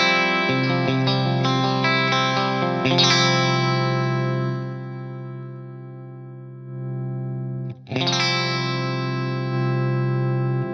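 Clean electric guitar chords through an Axe-Fx III amp modeler, middle and bridge pickups, ring out bright and glassy with chorus shimmer, sustaining, then a brief drop before another strummed chord rings on.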